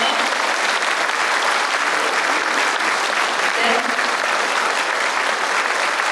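Audience applause at a Korean martyrs commemoration cantata performance, a dense, steady wash of many hands clapping at full loudness throughout, without a break.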